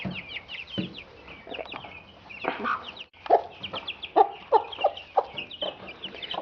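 Chickens cluck and chirp close by in an irregular series of short calls, with turkey-like gobbling sounds mixed in among the flock chatter.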